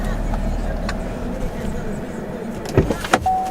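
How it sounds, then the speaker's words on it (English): A Chevrolet Camaro SS power window rolls up inside the car, a short motor whine starting near the end after quiet cabin noise and a couple of soft clicks. "Let's roll our window up,"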